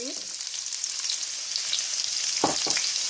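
Onions dropped into hot oil in a pot for chicken pulao, a bright steady frying sizzle with a couple of quick stirring scrapes near the end, close up and without talk.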